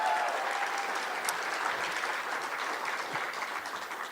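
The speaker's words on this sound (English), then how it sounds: "You can offer your round of applause." Steady round of applause from an election-night crowd for Senator Todd Young's family, a continuous wash of clapping at moderate distance with no talking over it.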